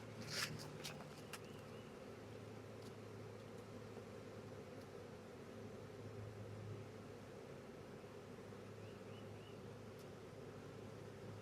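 A honeybee swarm outdoors gives a faint, steady buzzing drone that stays constant throughout, a soft wash of many wings with a few brief clicks near the start and no talking.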